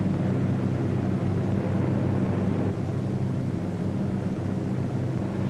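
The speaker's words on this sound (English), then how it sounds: "A formation of 18 B-17s was on its way to attack Rouen." A formation of 18 B-17 bombers droning overhead on a bombing run, a dense, continuous engine roar with no breaks, steady and loud throughout.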